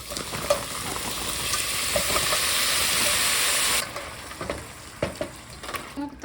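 Onion and garlic fry in a pan with a bright, steady sizzle and hiss for several seconds, which then drops away to scattered clinks and stirring noises, close by.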